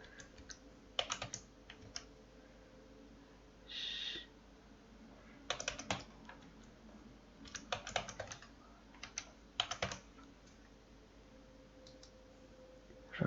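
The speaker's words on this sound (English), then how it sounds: "I am typing the values by looking at the previous test we did." Typing values on a computer keyboard while setting up an Unreal Engine scope material, with close, quiet clusters of key clicks separated by pauses.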